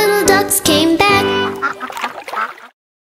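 Sung nursery rhyme about five little ducks, with a voice imitating a mother duck's quacks in a few quick, bright, tonal bursts before the line trails off into silence.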